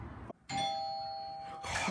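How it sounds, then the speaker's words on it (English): A doorbell rings twice with a clear, sustained electronic chime tone, loud and close, followed by a brief burst of noise, with no one talking. "We're ringing a couple times."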